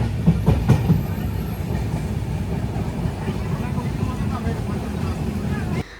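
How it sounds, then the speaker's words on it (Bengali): A local train from Sealdah rumbles along in a steady loud roar, with faint rhythmic clatter of wheels on rails. Voices murmur underneath. "লোকাল ট্রেনে উঠে পড়েছি"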